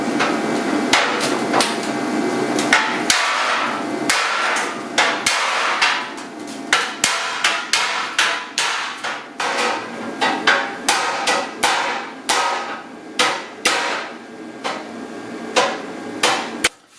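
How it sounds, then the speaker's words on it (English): Repeated hammer blows on the metal front bumper of a 1976 Mazda RX, straightening a dent, loud and close, coming in uneven bursts with short pauses between strikes. "So I guess I'll hit it with a hammer until it's straight."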